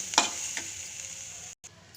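Onions with a pinch of turmeric and chutney fry in a pan for a ridge gourd peel chutney, giving a steady close sizzle with a couple of brief stirring scrapes near the start and a short gap near the end.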